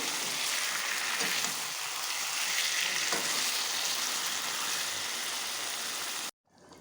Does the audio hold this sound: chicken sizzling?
yes